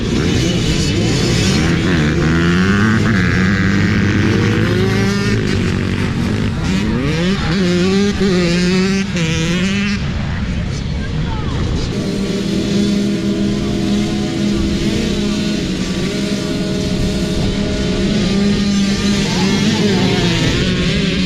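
Dirt bikes of younger kids racing at a harescramble event, engines revving and rising and falling in pitch as the bikes pass, loud and continuous with overlapping riders.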